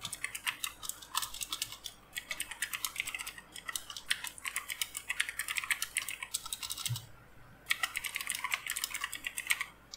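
Someone types a prompt on a computer keyboard with steady, quick, close key clatter and one short pause, and no voices.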